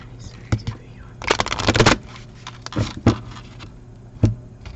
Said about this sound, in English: Let's shuffle one more because it feels a little dense over here.